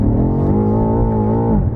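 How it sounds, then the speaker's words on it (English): A BMW M5 F90 pulls hard in first gear, its engine note climbing steadily in pitch and loudness as revs build, heard from inside the car over about two seconds with no talk. "I can just floor it and it just goes, and that's nearly 600 horsepower going straight to the tarmac"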